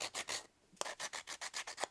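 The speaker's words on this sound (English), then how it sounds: "I think this one's like an 80 grit, and it's really good for rough sanding." A Duragrit 80-grit hand sander rough-sands wood in quick back-and-forth strokes. A short burst is followed by a pause, then a steady run of about nine even rasping passes, close and fairly quiet, with no talking.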